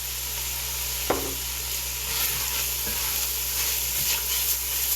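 Sausage and onions sizzle as they sauté in a pan, a continuous close frying hiss with a few utensil knocks and scrapes against the pan.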